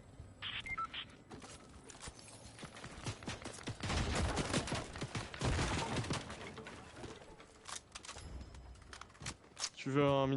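Rapid bursts of gunfire in a BedWars video game, including a minigun, crackle in clusters through a busy mix and swell in the middle, with chatter and other game sounds around them.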